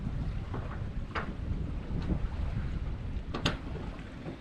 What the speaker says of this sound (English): So he's putting out the jib right now.